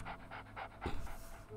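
Rhythmic panting from Duodong, a pet dog in the video game At Home Alone, with several quick breathy pulses followed by a louder burst of movement.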